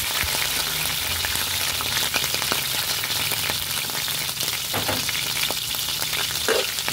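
Shrimp sauté briefly in a hot pan, a dense continuous sizzle with scattered pops and crackles, close and fairly loud, no voices.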